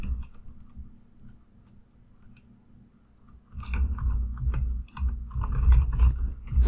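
Keys clatter on a computer keyboard as text is typed into a UI design program. Quiet room hum comes first, then a close burst of irregular clicks runs for the last few seconds.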